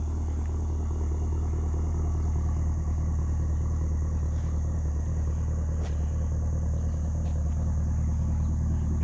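A 2018 Camaro ZL1 convertible with an 8-speed automatic sits running, its engine giving a steady low rumble throughout with no speech.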